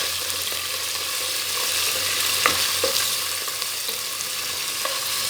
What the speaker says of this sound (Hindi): इसको हमें थोड़ा सा फ्राई करना है ऑयल में।